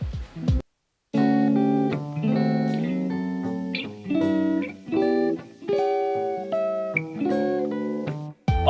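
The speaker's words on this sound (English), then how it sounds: "the first thing I like to add is the wobble, which is maybe my favorite feature within RC20" Lo-fi electric guitar chords and plucked notes through the RC20 Retro Color wobble effect, with sustained harmonics that drift slightly in pitch across several phrases, one short gap near the start, loud and up close.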